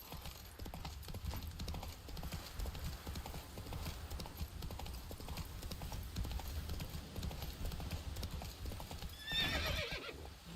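Rhythmic hoofbeats of a horse galloping in The Witcher 3 video game, steady clip-clop under faint game ambience, ending with a brief whinny near the close.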